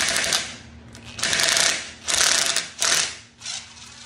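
A DeWalt power tool spins a 10 mm socket on a 3/8 adapter in a garage, giving four short, loud ratcheting bursts close by, separated by brief pauses.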